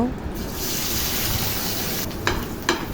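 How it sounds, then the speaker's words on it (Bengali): Fish fries in oil in a wok, a steady close sizzle that holds throughout, with a couple of brief sharper clinks near the end. "চুলার কড়াইতে তেল দিয়ে মাছ ভেজে নেব"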